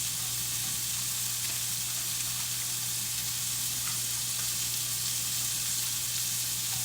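Pot of breakfast lasagna sauce simmering on the stove after coming to a boil, a steady close hiss and sizzle with a low constant hum underneath and no talk.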